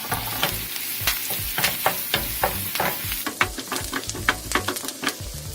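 Curry leaves spit and crackle in hot oil for a banana flower thoran, with close, busy sizzling and sharp popping bursts over a steady hiss, plus occasional stirring scrapes.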